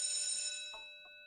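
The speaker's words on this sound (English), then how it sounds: "Is that the fire alarm or is that the bell that you guys hear?" An alarm bell gives a single bright metallic ring that dies away over about a second, with soft knocks underneath.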